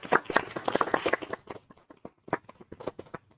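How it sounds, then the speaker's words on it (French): A small group of people claps together briefly on a live show, with a dense burst of applause that thins to scattered claps, nearby and moderately loud. "On peut s'applaudir, je pense."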